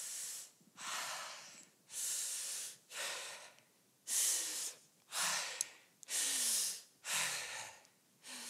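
A person breathing close to the microphone in a recording, about eight strong airy breaths in a steady rhythm, each a loud hissing swell divided by short silences, with no talking.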